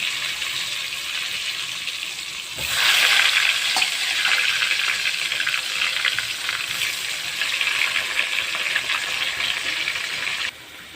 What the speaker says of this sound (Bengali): আলুটাকে ভেজে নিচ্ছি আগে কিছুটা আলু ভেজে নিয়েছি